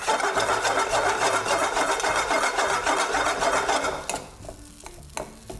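Egg fried rice being stirred and tossed in a hot pan makes a dense, continuous, close scraping and sizzling, which drops off after about four seconds to a few scattered scrapes.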